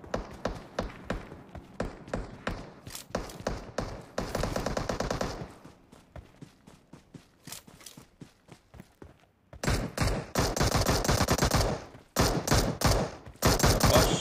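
Rapid bursts of automatic gunfire in the mobile battle-royale game PUBG Mobile, sharp repeated cracks in fast volleys with short pauses, loud and close, with no talking.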